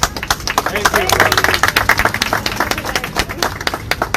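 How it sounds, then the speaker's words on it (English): Audience applause rings out at a Tigrayan and Eritrean community protest rally in Houston, individual claps sharp and clearly separated in a lively, uneven rhythm, with crowd voices murmuring underneath. "another round of applause for Mr. Cornell X"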